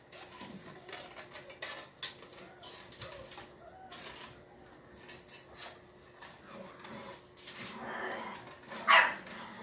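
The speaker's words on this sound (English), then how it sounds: "I love hearing puppies playing" Puppies about six weeks old play indoors, faint yips, scuffles and small clinks scattered over a quiet room, with one sharper yelp near the end.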